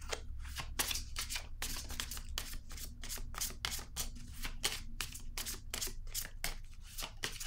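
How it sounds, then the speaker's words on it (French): Tarot cards being handled and drawn from a deck, a quiet, close run of rapid rhythmic flicks and shuffles with no speech. "Je vais piger une carte rose."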